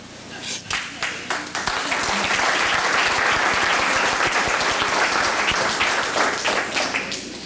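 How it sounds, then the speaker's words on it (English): An audience at a club award ceremony bursts into loud applause, with a few distinct claps at first that swell into sustained, vigorous clapping lasting several seconds, mixed with faint crowd voices. "That's one way of getting applause."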